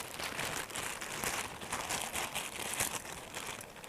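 Close crinkling and rustling of a bag's plastic or paper as its sides are cut, a continuous soft crackle with small irregular bursts.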